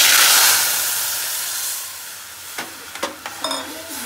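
A loud burst of sizzling as a spice mixture hits hot ghee with crackled cumin, hissing strongly at first and then fading, followed by a few clinks of a utensil.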